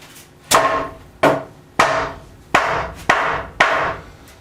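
A hammer pounds a plywood subfloor board into place with six heavy, evenly spaced blows, each a sharp woody thud that rings briefly, close and loud with no talking.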